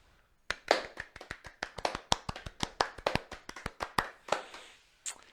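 A small group claps hands in a loose, uneven burst of about twenty sharp claps over several seconds, close and fairly quiet, then trails off with a final clap.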